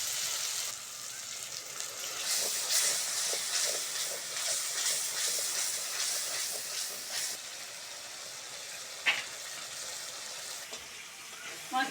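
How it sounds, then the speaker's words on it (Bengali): Spices with tomato and green chili sautéing in a pan for a village-style drumstick vegetable curry, a steady soft sizzle and hiss throughout with occasional clinks of a utensil. "মশলাটা ভালো করে কষে নিয়েছি।"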